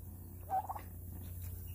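A turkey on a Texas farm gives one short, fairly faint gobble partway through, over a steady low background hum, with no talking.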